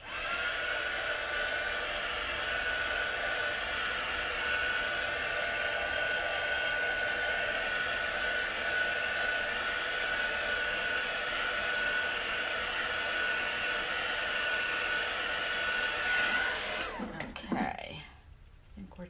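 A hair dryer blows steadily on wet chalk paste over a stencil, a loud continuous whir that runs nearly the whole time before switching off near the end.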